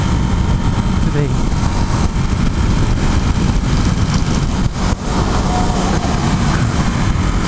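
Ducati Hypermotard 821 motorcycle engine droning steadily while riding to work on a gloomy day, a loud continuous rumble with wind noise throughout and a brief dip near the five-second mark.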